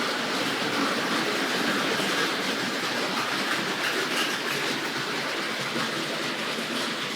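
Tri-ang 00 gauge model train running on its track: a steady, close rattling and whirring hiss that continues evenly throughout with no pauses.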